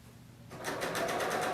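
A Bernina L890 serger starts up after a brief hush and runs at a quick, even stitching rhythm, its rapid mechanical whir sounding close and clear.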